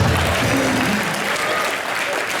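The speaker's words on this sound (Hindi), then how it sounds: "भाई तालियां अदा के लिए।" A studio audience at a live comedy TV show claps in a dense, loud burst of applause that holds steady throughout.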